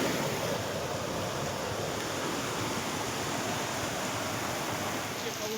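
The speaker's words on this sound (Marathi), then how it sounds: "वड्या नाल्याला वडे नाले भरून वाहत आहेत।" Heavy monsoon rain and swollen streams in rural Maharashtra produce a dense, constant rushing roar of water that is loud and unbroken, and no voice comes through.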